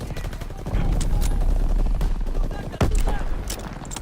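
Bursts of gunfire from a WWII combat video game, dense and continuous with a loud sharp shot near the end, under excited player voices.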